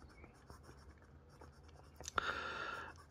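A Flaro Sirius fountain pen with a medium steel nib writing on paper, giving a soft, steady scratch close up that turns brighter and louder near the end.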